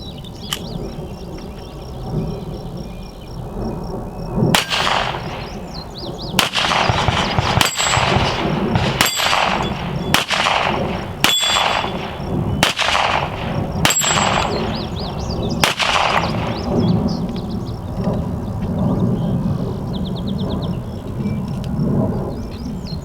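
A Smith & Wesson Model 41 .22 pistol firing at a range: about ten sharp, loud cracks at irregular intervals, some close together, over a continuous outdoor background hiss.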